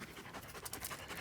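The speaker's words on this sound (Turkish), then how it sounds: "köpekler nefeslerini ayarlıyorlar" A dog pants after a walk in the park, with quick, steady, breathy rhythmic pants that are faint and close, with no talking.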